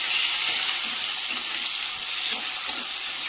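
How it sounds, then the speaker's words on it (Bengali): Meat frying in a pot, with chopped onion to follow: a dense, steady hiss of sizzling fat, close and fairly loud, with a few faint stirring knocks and no speech. "প্রথমে মাংসটা চাপিয়ে দিলাম।"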